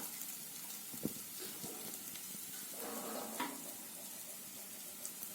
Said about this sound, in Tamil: இது நான் வதக்கிட்டு காமிக்கிறேன் அவ்வளவுதான் வெங்காயம் இந்த அளவு வதங்கினா போதும்